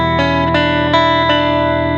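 Electric guitar strings ringing out through a Chroma Console multi-effects pedal, making a dense, bright sustained drone with reverb, broken by a few short percussive pick attacks at a steady loud level.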